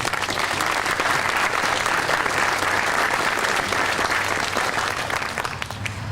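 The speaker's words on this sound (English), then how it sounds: "Can we hear another round of applause, please, for the city?" Sustained audience applause at an outdoor city band concert, a dense, steady wash of many hands clapping at even loudness for about six seconds, fading slightly at the end with no voices over it.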